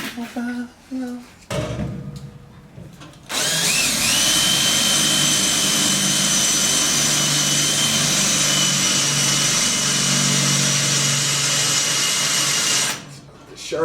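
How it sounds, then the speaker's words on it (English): A power drill runs steadily and loud for about ten seconds, boring into a part of a 1971 Chevy C10 pickup, after a few brief spoken words at the start. "I'll get my drill"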